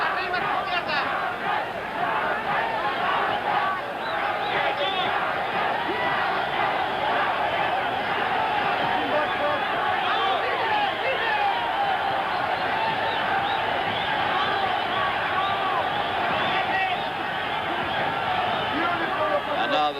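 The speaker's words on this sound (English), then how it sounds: "This crowd in this vast Astrodome in Houston, Texas, roaring the pair of them home." Huge boxing crowd roaring inside the Houston Astrodome during a Salvador Sanchez vs Pat Cowdell bout, a dense continuous wall of cheering and shouting with a commentator's voice over it.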